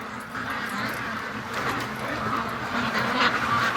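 Free-range ducks quack on a cold outdoor farm, a busy flock heard at moderate distance with overlapping calls over steady background noise.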